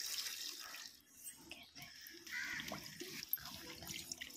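Water pours into the tub of a semi-automatic washing machine, a close, continuous splashing rush with uneven gurgles and drips.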